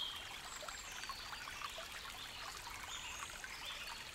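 River water trickles and streams steadily at close range, a soft continuous wash of small splashes and babbling with no voices.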